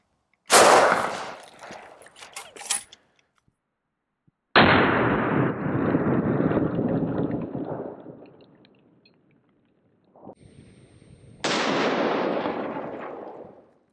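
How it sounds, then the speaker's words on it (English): A former-sniper Springfield rifle fires black tip armor-piercing rounds at a ceramic armor plate from about ten feet, giving loud sharp reports with long reverberant decays, several separate blasts spaced seconds apart. "piercing, black tip ammo coming out of my Springfield former sniper rifle"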